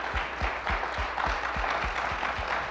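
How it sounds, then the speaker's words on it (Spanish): Audience applause at a Spanish-language religious gathering, heard as a steady, rhythmic run of about ten evenly spaced hand claps over a bed of scattered clapping, fairly close, with no talking over it. "Un aplauso por la Biblia, la palabra de Dios"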